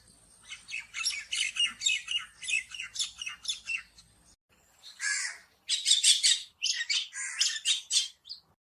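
Common myna calls close by in a string of harsh, squawking and chattering notes, a steady run of bursts followed by a short pause and then a louder cluster of raspy calls.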